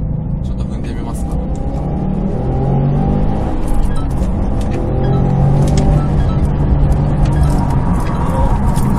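A Subaru WRX STI (VAB) on Fuji Speedway with traction control fully off accelerates hard, a loud close engine roar rising and surging across gears amid road and wind rumble.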